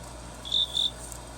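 An Emo robot imitates a cicada with two short, bright electronic chirps in quick succession, faint over a quiet background.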